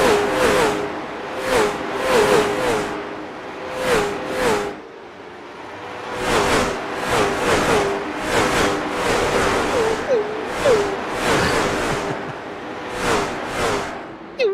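Race car engines circling Myrtle Beach in the iRacing sim, repeated swelling passes of a revving engine sweeping by in a regular rhythm, with a commentator talking faintly underneath.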